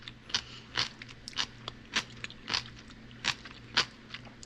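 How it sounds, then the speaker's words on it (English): Repeated crunchy chewing on a sweet refrigerator pickle, about nine sharp crisp crunches in an uneven rhythm, close up with no talking. "Super crunchy because they're just a refrigerator pickle."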